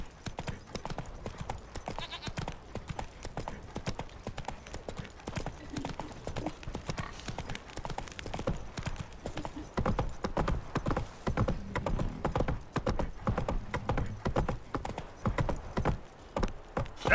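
Horse hooves galloping during a derby race in The Witcher 3: Wild Hunt video game, a continuous rapid clip-clop rhythm that grows louder and heavier partway through, with occasional faint game voices.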